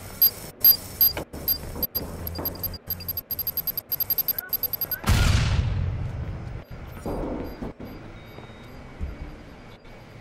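Grenade blast and gunfire in the Watch Dogs video game: rapid regular gunshots rattle for several seconds, then one loud booming explosion rolls out and decays into a rumbling tail, with sparse shots after.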